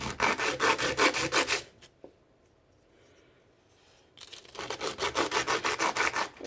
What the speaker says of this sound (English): All you gotta do is just grab some sandpaper, take apart your Goatguns, just start sanding down